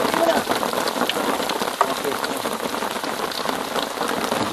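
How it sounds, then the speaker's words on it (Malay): Heavy rain pours steadily at a small river jetty, a dense, loud, continuous hiss of drops on surfaces that holds for the whole stretch without a break. "Okey, sambung. Hujan dah lebat."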